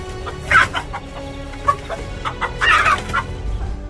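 A mother hen clucks in agitated bursts while guarding her chicks against a cobra, with sharper rooster-like squawks near the start and a louder, busier cluster of calls toward the end, close and clear with no talk.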